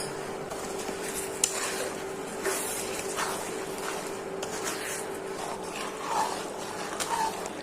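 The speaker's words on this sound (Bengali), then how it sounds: "এখন নেড়ে চেড়ে ভালো করে ভেজে নিচ্ছি।" A spatula stirs dried fish paste (chepa shutki) frying in a pan, giving quiet, irregular scraping and clinking of metal on metal over a faint, steady sizzle.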